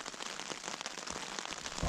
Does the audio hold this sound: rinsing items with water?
no